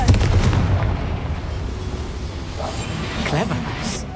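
Confringo explosive spell cast in the video game Hogwarts Legacy: a dense, loud rumbling blast that rolls on for several seconds, with a short bright zap near the end.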